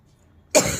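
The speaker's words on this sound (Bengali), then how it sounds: "কাশি হচ্ছে" A single harsh cough bursts out after a quiet moment, close and loud, from a person with a cold, an itchy, burning throat and a sore head.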